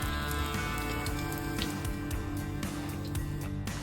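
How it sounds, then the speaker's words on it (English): Meatballs fry in a pan until golden brown, a steady crackling sizzle with scattered pops running throughout, moderately quiet and close. "we fry the meatballs until golden brown"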